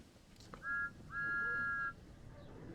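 A steam train whistle from Thomas and Friends: Wonders of Sodor gives a short toot, then a longer steady blast, clear but moderate over faint background hiss.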